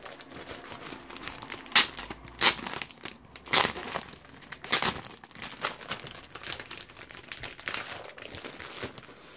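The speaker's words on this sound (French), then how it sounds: "Alors je vais le déballer." Crinkling plastic packaging as a package is unwrapped, close and irregular rustles with sharper crackling bursts every second or so, no talk.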